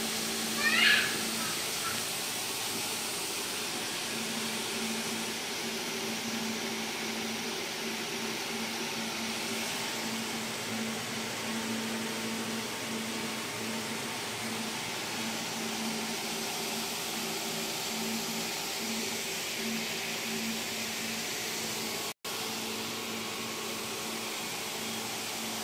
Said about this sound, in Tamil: இது எப்போவுமே பார்த்தீங்கன்னா இந்த மாதிரி நெட்டிங் மிஷினில் எப்போவுமே ஸ்டாப் பண்ண மாட்டாங்க. 24 hours நைட்டே தான் இருக்கும், கண்டினியூஸாக வந்து ரொட்டேட் ஆகிட்டே இருக்கும்